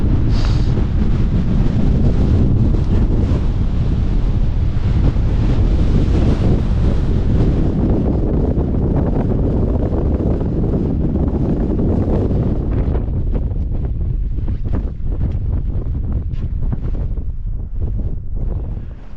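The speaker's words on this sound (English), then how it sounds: "35 mile per hour winds up there, maybe 40 mile per hour winds." Strong gusting wind buffets the microphone on the exposed summit of Carnedd Llewelyn in Snowdonia, North Wales, with winds around 35 to 40 mph, a loud continuous roar that eases slightly toward the end.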